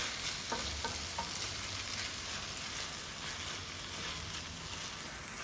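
Fire-roasted tomatoes cooking in a paella pan give a steady, low sizzle with soft stirring scrapes, fairly quiet and continuous throughout.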